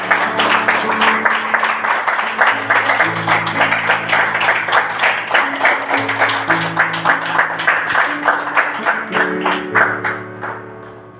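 A church congregation claps steadily in unison as praise to Jesus Christ during a Spanish-language sermon, loud rhythmic hand claps over sustained organ-like tones, fading near the end.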